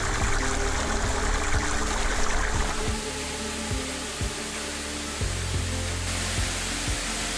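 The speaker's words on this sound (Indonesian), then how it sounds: "Dengan tinggi sekitar 20 meter, air terjun ini mengalirkan air ke sungai di bawahnya" Karmon waterfall in Biak, about 20 metres tall, pours into the river below as a constant, full rush of water, with a low droning tone running beneath it.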